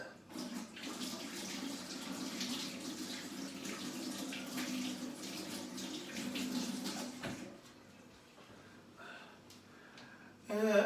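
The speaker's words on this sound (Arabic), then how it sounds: "غادي نبدا نغسلو يدينا" Hands are washed under a running kitchen tap, giving a steady splashing stream that cuts off partway, followed by quieter drips and a brief loud splash at the end.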